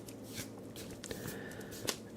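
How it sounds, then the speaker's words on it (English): Tarot cards shuffled close up in a quiet room: a couple of soft riffles and flicks, with a few sharp card snaps near the end and no talking. "I'm going to just do a little shuffle here"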